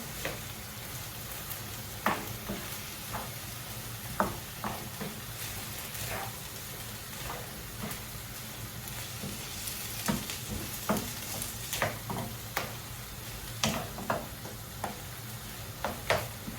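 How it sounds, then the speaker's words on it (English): Ingredients being stirred into a curry in a pot before coconut milk goes in, a steady low sizzle broken by a series of soft scraping strokes and light clinks at irregular intervals, close by with no talking. "So you stir all that in."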